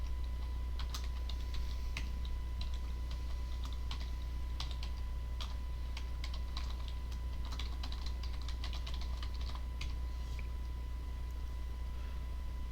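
Keystrokes tapping on a computer keyboard while admin login credentials are entered during software installation, a steady irregular run of light clicks close up over a low constant hum, no voices.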